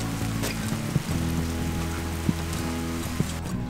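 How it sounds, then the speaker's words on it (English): Rain falling onto a wooden roof structure covered with reused roof tiles, a steady patter with occasional louder drips and a constant low hum underneath, no talk. "So it's now raining, but we can eat pizza dry."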